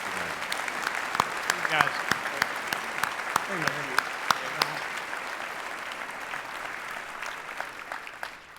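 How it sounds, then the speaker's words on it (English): Loud, continuous applause fills a chamber of commerce annual meeting hall, with sharp individual claps standing out near the microphone and brief voices calling out over it. "Let's give these great leaders a round of applause for being with us today"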